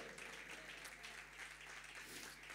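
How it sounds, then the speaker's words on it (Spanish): Continuous applause from a church congregation during a Spanish-language sermon fills the space, a steady wash of clapping at moderate distance with no breaks. "Denle un aplauso al Señor Jesucristo."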